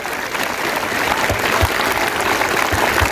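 A school audience at an Independence Day celebration claps loudly and steadily, a dense, continuous wash of many hands that keeps up for the whole stretch with no voices over it.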